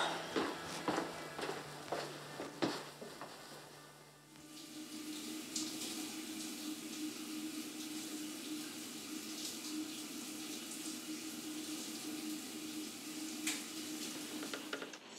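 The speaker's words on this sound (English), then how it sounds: "I'm gonna take a shower, I guess." Steady broadband hiss of a shower running in a home bathroom, continuous and fairly close after a brief stretch of clattering room noise at the start, with no talking.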